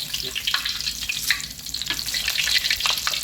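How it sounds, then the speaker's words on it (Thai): Whole fish frying one at a time in hot oil, a loud continuous crackling sizzle with scattered pops and spatters, heard up close and alone without any voices. "ผมทอดให้ดูทีละตัวก่อนนะครับ เวลาลงก็ลงทีละตัวเรียงเรียงตัวมันไปนะครับมันจะได้ไม่ติดกัน"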